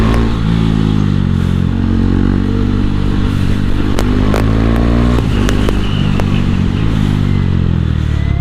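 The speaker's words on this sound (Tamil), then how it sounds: "டவுன் ஷிஃப்ட் நான் ஆட்டோ பிளிப்பில் பண்ணுறேன்." A KTM Duke 390 BS6 motorcycle rumbles loud and close while riding, its exhaust note shifting in pitch as it downshifts with the auto blipper, with sharp clattering pops and crackles scattered through the second half.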